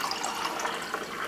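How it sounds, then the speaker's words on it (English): Water from an 8-ounce mug pours into the reservoir of a Keurig B30 Mini K-Cup coffee maker, a short, close, steady trickling splash heard alone. "I've filled it with water and I'm now going to pour that"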